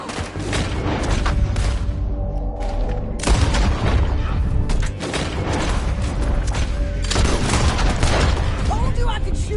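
Dense, loud gunfight in the video game Red Dead Redemption 2, with overlapping gunshots and booming blasts in continuous waves and voices talking underneath the firing.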